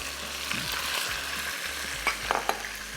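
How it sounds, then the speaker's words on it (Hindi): Chicken fries in a pan for a Balti gosht dish with a steady, close sizzle. A few sharper scrapes from stirring come near the end. No one speaks. "चिकन को जो अच्छे तरीके से फ्राई करना है"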